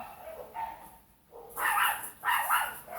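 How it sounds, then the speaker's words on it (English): A small dachshund barks and yelps in two loud bursts, high-pitched and close, after a quieter whine at the start. "I'm shouting over a screaming dachshund."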